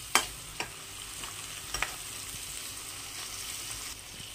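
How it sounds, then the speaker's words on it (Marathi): Chopped onion and crushed garlic fry in a pan with a steady, close sizzle, broken by a few sharp spoon clinks and scrapes near the start as the mixture is stirred. "असा हा थोडासा कांदा आणि लसूण थोडासा लाल करून घेणार आहे"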